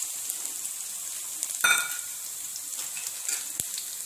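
Onions and green chillies frying in a pan, a soft continuous sizzle with a brief louder crackle and clatter midway, close and alone.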